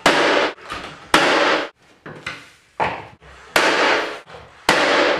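A nail gun fires into wooden door casing during a door frame repair, producing a series of sharp, loud pops spaced roughly a second apart, each with a brief echo and no talking.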